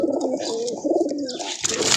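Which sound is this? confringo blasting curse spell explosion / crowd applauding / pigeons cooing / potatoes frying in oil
pigeons cooing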